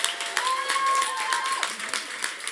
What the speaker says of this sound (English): we're just going to get a final round of applause for all the brave pitchers.